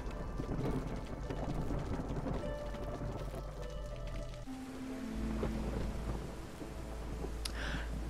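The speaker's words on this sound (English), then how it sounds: "all of a sudden it's a lot darker and it's raining harder and stuff" Heavy rainstorm in the city-builder game Against the Storm: a constant loud wash of rain with deep rumbling thunder underneath, plus faint tonal game sounds drifting through.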